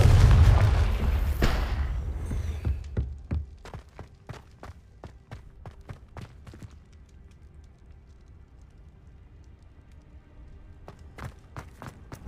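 Confringo fire spell explosions in Hogwarts Legacy, a heavy rumbling blast that decays over a few seconds, then a scatter of sharp cracks and thuds at irregular intervals, no speech.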